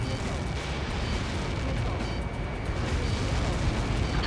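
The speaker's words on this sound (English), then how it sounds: "How many got caught in that explosion?" A huge blast from the Helios projectile impact in the aerial combat game Ace Combat 7, a dense, sustained rumbling roar that fills the whole clip at steady loudness, with voices heard faintly beneath it.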